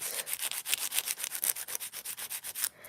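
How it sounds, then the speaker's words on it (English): A nail file rasps back and forth across the sides of fingernails in a fast, steady rhythm of about a dozen close, scratchy strokes, ending abruptly, with no talking. "Filing these sides so it gets to that nice point."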